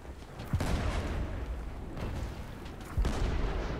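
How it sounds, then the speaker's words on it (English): A silver ship's cannon fires in the pirate naval game Blazing Sails: two heavy booming shots about two and a half seconds apart, each over a constant rumble of game noise, with no talking. "This is how fast the silver cannon is."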